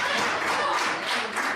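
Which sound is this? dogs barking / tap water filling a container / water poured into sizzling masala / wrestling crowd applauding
wrestling crowd applauding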